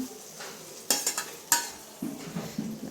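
Boiled dal tipped into a hot, sizzling tadka of spices with coriander powder and garam masala, then stirred, giving a few sharp splashy bursts followed by a steady low sizzle and scraping stir, close up with no talk.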